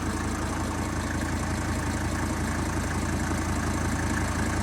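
A motorcycle engine idles steadily after a brake pad change and a seized caliper piston fix, a constant close, even rumble with no pauses.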